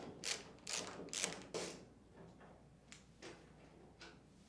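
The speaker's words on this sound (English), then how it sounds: "Using a Phillips head screwdriver, remove these two screws on the back of the washer." A Phillips screwdriver backs two screws out of the rear panel of a washing machine, giving several close, crisp ratcheting clicks and scrapes in quick succession, then softer, sparser clicks.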